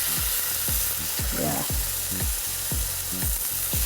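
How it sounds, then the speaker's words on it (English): Marinated meat sizzles steadily in a hot cast iron pan, a loud, close, continuous frying hiss with faint low rhythmic thumps beneath and a brief spoken word. "Hear that sizzle? Just what we want."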